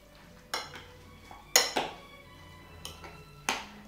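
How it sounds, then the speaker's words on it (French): A utensil stirs rabbit meat and its jellied sauce together in a bowl, with a few sharp clinks and scrapes against the dish spaced irregularly over a quiet background. "nous allons ajouter le lapin avec sa sauce gélifiée et nous allons continuer le mélange"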